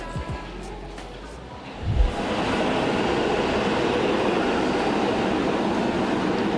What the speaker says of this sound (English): Do love those trams.